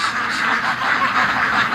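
A flock of raised ducks quacks continuously at close range on a morning walk, many overlapping calls forming a dense, steady chatter with no pauses.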